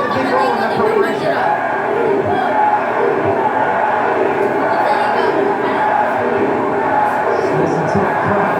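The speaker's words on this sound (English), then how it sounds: "Listen to that crowd." A boxing arena crowd during the Pacquiao vs Barrios fight, a dense, steady roar of cheering and chatter filling the space at constant loudness, with a commentator talking over it.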